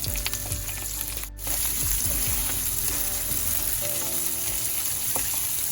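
Onions, slit green chillies, garlic, fennel, mustard and curry leaves sizzling in hot oil in a pan, a steady close frying crackle with brief stirring noises and no talk.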